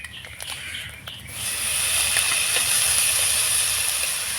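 Grated pointed gourd drops into hot spiced oil in a pan, a few light clinks giving way to a loud, sustained bright sizzle and hiss that holds steady to the end.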